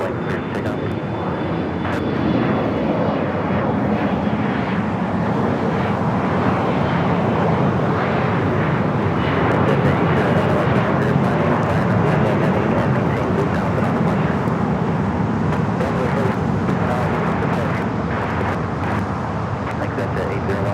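A jet taking off at night from runway 25 right at Los Angeles International Airport, its engine roar steady and loud for the whole stretch, a broad continuous rumble with faint voices mixed in.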